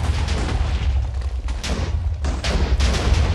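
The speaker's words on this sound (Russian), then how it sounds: "давайте посмотреть на взрыв" Explosion in the Minecraft video game, a series of loud booming blasts and thuds in quick succession, near and dominant, with no talk over them.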